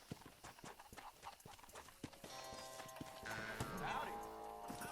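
Horse hooves clip-clop in a rhythmic series in the Western game Red Dead Redemption, steady and fairly close, with a voice talking over them and a louder, denser layer of game sound taking over partway through.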